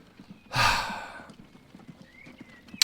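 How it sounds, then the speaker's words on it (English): Horse-drawn cart in the video game Transport Fever 2 on a narrowboat canal route, giving a short burst of hoof clip-clops and a whinny, then fading into quiet ambient game sound with no talk. "There's the horse and cart from the people that live back up the road up there."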